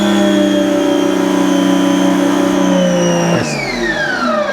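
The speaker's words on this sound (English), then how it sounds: "what I want to do is I want you guys to hear the machine. I'm going to have my hand on the trigger." Close to the microphone, a Giraffe Tools 2200 PSI Grandfalls wall-mounted electric pressure washer (2.1 GPM) drones loudly with the trigger held, then its motor tone falls away as it spins down when the trigger is released.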